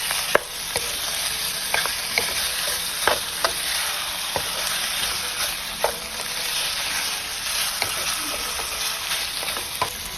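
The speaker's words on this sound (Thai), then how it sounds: "ผัดให้หมูมันตึงครับ" Pork stir-fried in a wok gives a steady, loud sizzle throughout, with sharp clacks of the spatula against the pan at irregular intervals.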